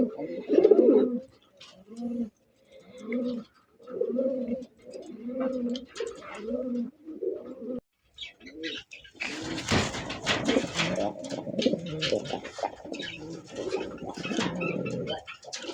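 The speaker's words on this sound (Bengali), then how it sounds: "এটা গোপালগঞ্জের বড় পায়রা বলে, দেশি" Large native Gopalganj pigeons, a black bird among them, give repeated close, rhythmic cooing in short phrases, then a louder burst of cooing and wing flutter.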